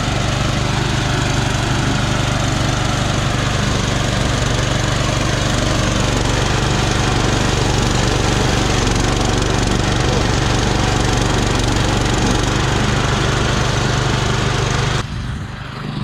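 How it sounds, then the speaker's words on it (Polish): A riding lawn mower drones loudly and steadily, its engine running without pause until it cuts off near the end. "kosiarka dalej kosi."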